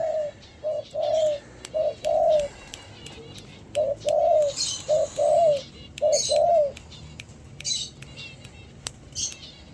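Spotted doves in a large, roomy cage coo and squawk in a series of loud, close, rhythmic bursts with short gaps, over faint background noise.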